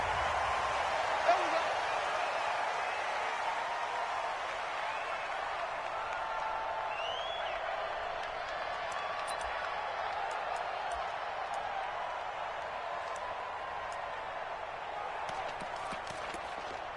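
Stadium crowd noise in an American football video game, Chicago Bears versus Los Angeles Rams: a steady, fairly quiet roar of a large crowd with faint cheers and clatter, under commentary-like voices.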